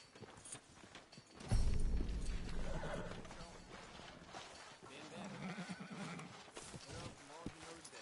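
Horse neighing and hooves from the video game Red Dead Redemption 2, a loud close whinny followed by clip-clopping steps and snorts, with character speech mixed in around it.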